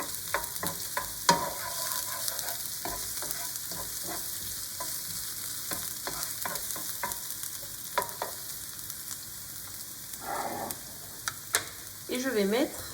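Shallot sizzling in a pan while being stirred, a steady bright frying hiss broken by repeated scraping and clacking of the utensil, close up, with no talk.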